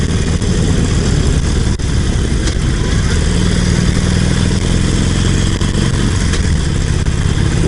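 Harley-Davidson Iron 883 motorcycle on a night ride along a seaside road, its engine droning loudly and steadily with heavy wind rush, and a faint voice underneath.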